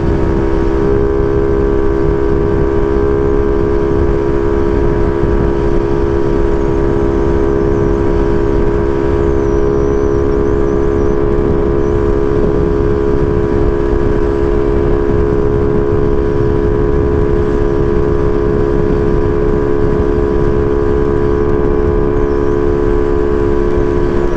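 Yamaha Mio Soulty scooter engine running while riding, reportedly suffering a loss of compression, giving a loud, steady droning hum with wind roar that holds unbroken throughout, with no voices.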